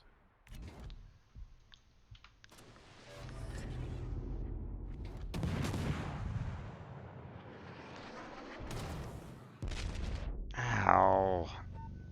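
Warship gunfire in World of Warships, several deep booming shots and rumbling salvos spread over the stretch, some close and loud, with someone talking between them.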